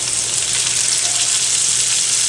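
Spinach and jalapenos sizzle steadily in a hot frying pan for a veggie egg scramble, a loud, continuous crackling hiss with no voices over it.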